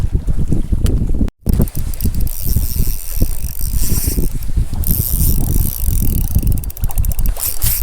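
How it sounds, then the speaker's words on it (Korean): Gusty wind blows across an island shore during fishing, buffeting loudly and continuously with rattling and clanking of gear mixed in, close and harsh throughout. "바람이 춥대. 바람이 추워."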